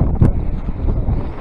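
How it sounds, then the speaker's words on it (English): Strong wind while backpacking and fly fishing in the Wyoming mountains, buffeting the microphone in loud, gusty rumbles that rise and fall, with no talk over it. "It is windy!"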